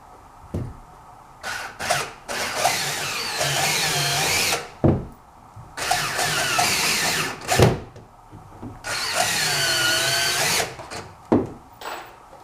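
A power drill drives four 1-inch number 8 pan head screws into a Tamlyn Xtreme split block. The motor whines in several separate bursts of a few seconds each, with short pauses between them, loud and close.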